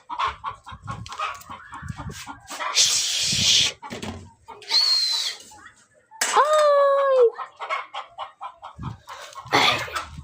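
Rooster and hens on a rooftop in a pigeon-keeping setting, giving loud close clucks and squawks in bursts, with one drawn-out crowing call near the end, amid bird wing flaps and background chatter.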